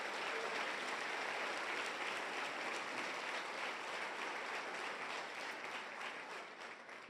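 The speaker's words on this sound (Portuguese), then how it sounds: "Dê para Jesus uma forte salva de palmas" A church congregation at an evening service claps loudly together, a dense, steady roar of applause that holds for several seconds before thinning slightly at the end.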